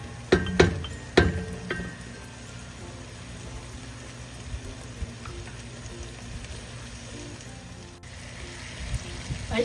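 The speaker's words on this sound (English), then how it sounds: "I added now our ground pork. We need to brown this." Ground pork browning in a pan for pork picadillo, a low steady sizzle with a few sharp clinks of a utensil against the pan near the start.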